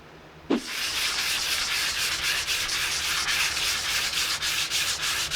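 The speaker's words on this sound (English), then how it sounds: "You're good at sanding, right?" Steady, continuous scratchy hand sanding of a carbon fiber car part, close up, with rhythmic back-and-forth strokes running throughout after a brief start.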